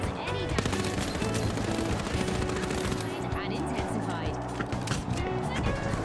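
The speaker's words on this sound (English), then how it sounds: "I see gunshots from that opening right there" Dense, rapid gunfire in a team-based shooter video game, with continuous automatic bursts and overlapping shots layered over game ambience and tonal effects, loud and unbroken throughout.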